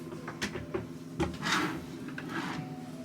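A cabin drawer aboard the cruise ship Independence of the Seas is slid and knocked a few times in a balcony cabin. The sounds are short, soft scrapes and thuds close by in a quiet room.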